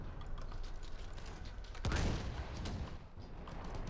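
Gunfire in the Battlefield 1 video game, with a steady rattle of distant shots under game noise and one heavy close blast about halfway through, followed by more muffled shooting.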